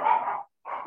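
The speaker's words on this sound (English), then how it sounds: "He's barking up a storm in the background." A dog barks twice in the background, two sustained, muffled barks separated by a short pause, moderately loud and heard alone.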